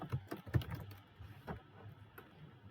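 Computer keyboard typing during a coding practice session: quick, uneven clusters of close, quiet key clicks with short pauses in between, no voices.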